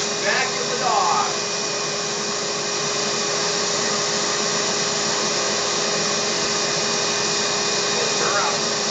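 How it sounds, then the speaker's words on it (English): A vacuum cleaner runs on a dog with a steady, loud whine and drone throughout, and a person speaks briefly over it near the start and end. "If you can't find your dog brush, vacuum the dog."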